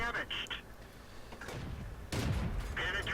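A tank gun fires in a tank video game featuring the T40 and Somua S35, with several sharp cannon blasts and impacts under a commentator's continuous talk.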